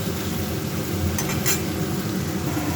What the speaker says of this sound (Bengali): উচ্ছে আলু ভাজা চাপিয়ে দিয়েছি